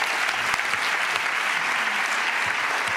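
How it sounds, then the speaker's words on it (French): Steady, dense applause from a conference audience in La Rochelle, a continuous wash of many hands clapping at even loudness for the whole stretch, with no voices over it. "On applaudit, merci."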